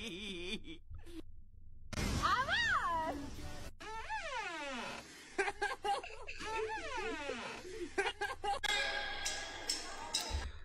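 A cat meows several times, drawn-out rising and falling cries separated by pauses and mixed with other short noises.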